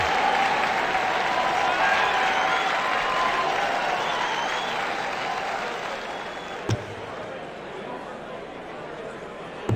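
A video game darts match crowd applauds in a steady, even wash that lasts several seconds and slowly fades, heard at a distance with faint chatter underneath.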